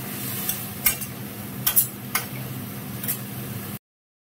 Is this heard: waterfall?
no